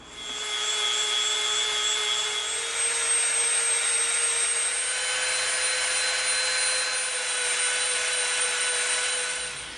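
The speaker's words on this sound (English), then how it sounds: "we're going to round the edges of this off with the dremel" A Dremel rotary tool whines at a steady high pitch while rounding the edges of EVA foam, one continuous close, loud grinding tone that holds for the full stretch without talk.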